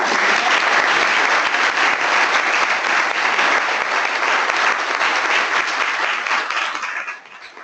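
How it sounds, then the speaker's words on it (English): Audience applause for the host at a panel session on local government interest in all-electric residential buildings: a dense, steady roar of many hands clapping close by, holding for about seven seconds before fading out at the end. "can I just get a round of applause for our host?"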